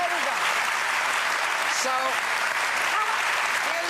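Studio audience at a talk show clapping in a steady, moderately loud wash, while a voice speaks briefly over it.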